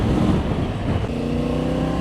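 Triumph Tiger 900 Rally Pro motorcycle under throttle, a loud, continuous engine roar with wind rush that swells and holds at close range throughout.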